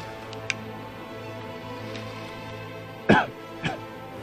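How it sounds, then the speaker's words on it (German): A man coughs during an airsoft game outdoors: a sharp cough, then a second smaller one shortly after, standing out against quiet background ambience, with a faint earlier click. "Deswegen der Husten."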